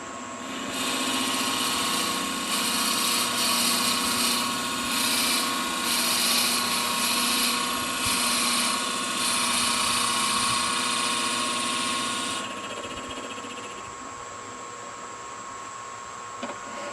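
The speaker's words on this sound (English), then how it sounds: "I'm going to use my Forstner bit, and I'm going to drill a hole" A drill whines steadily for about twelve seconds as a Forstner bit bores into wood, then the motor winds down to a lower hum.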